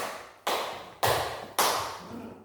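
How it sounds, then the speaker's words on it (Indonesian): Three sharp hand claps at an even, unhurried pace, moderately close and fairly quiet, each ringing briefly into the room before the next; claps counting out the legs of a cat in a children's counting game. "Kita tepuk 4."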